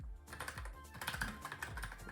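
Quiet, close typing on a computer keyboard, a steady patter of light key clicks with no voices over it.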